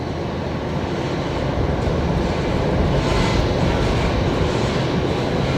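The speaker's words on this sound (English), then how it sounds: "Next arrival here on runway left is going to be the National Jet Express coming in from Orange. So one of the Dash 8 Q400s" Dash 8 Q400 turboprop arriving on the runway at Brisbane Airport, a steady broadband roar of engine and rushing air that swells slightly mid-way, loud and continuous with no voices.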